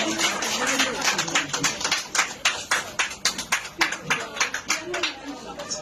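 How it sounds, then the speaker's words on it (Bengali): Audience applause at a stage event, a dense run of many hands clapping for several seconds, fairly loud and close, with voices murmuring underneath. "সবাই একটু হাততালি দিব, জোরে করতালি দিব।"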